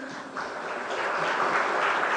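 An audience applauds volunteers at a law college event, a steady wash of clapping that swells slightly over two seconds, with no voices heard over it.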